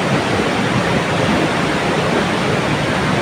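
Powerful water rushes continuously over the old Wawa Dam in Montalban, Rizal, Philippines: a loud, steady, close roar of torrent that fills the whole moment with no pauses or voices.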